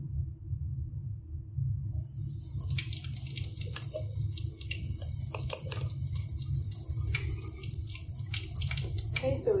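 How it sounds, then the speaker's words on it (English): A tap runs steadily while a hand is held under the stream during handwashing, producing continuous splashing and dripping water with a low hum underneath. "I am going to have my hand under the water from 5 to 15 seconds"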